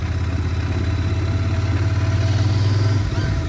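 A Royal Enfield Continental GT 650 motorcycle, 2023 model, accelerating hard, its engine note droning steadily and rising in pitch for about three seconds before easing off, heard close and without talk.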